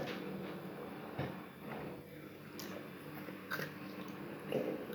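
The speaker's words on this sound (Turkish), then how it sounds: "bu ısırı yiyeceğim" Crunchy bites into a Dido Gold chocolate wafer bar, a few crisp snaps at intervals over steady chewing, close and fairly quiet.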